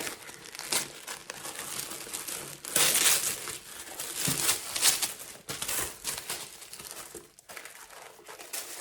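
Tissue paper inside a Guerlain holiday gift box crinkles and rustles close up in irregular bursts, louder crumples alternating with softer handling and brief pauses, with no talking.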